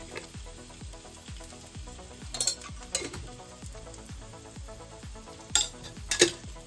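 Onion frying with a special masala in a pan, stirred with a utensil that scrapes and clinks in a steady rhythm over a continuous sizzle, with a few sharper metallic knocks, close and fairly loud, no talking.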